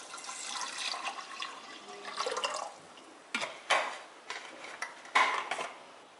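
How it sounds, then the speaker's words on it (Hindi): Water poured into a pressure cooker holding soaked chickpeas, heard as close splashing bursts and trickles with a few light metallic clinks, no talk. "इसमें मैं 4 से 5 गुना पानी डाल दूंगी"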